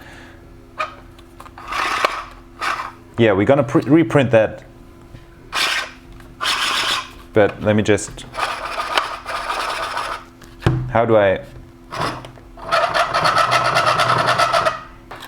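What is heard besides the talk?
friction rubbing in 3D-printed hand cranked air blower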